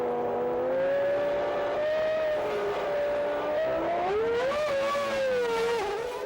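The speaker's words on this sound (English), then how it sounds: "So, as Coulthard rejoins" Formula One race car from the 1995 season rejoining from pit lane, its high-pitched engine screaming steadily then rising and dipping through gear changes, loud and close, with faint tire noise and no talk.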